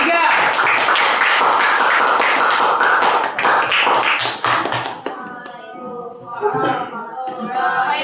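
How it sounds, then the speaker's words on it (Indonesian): Applause for group 3 after a classroom presentation, a few seconds of dense clapping from a group of people that fades, followed by voices. "tepuk tangan untuk kelompok 3"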